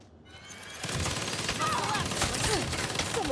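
A minigun in the Saints Row video game roars in a dense, continuous burst of rapid fire after a brief quiet start, loud and sustained with sharp whistling streaks over it.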